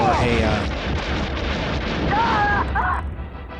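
In the Rogue Squadron video game, an X-Wing crashes into an AT-ST with a loud, continuous roaring explosion. Thin whining engine tones cut through near the end before the rumble fades slightly.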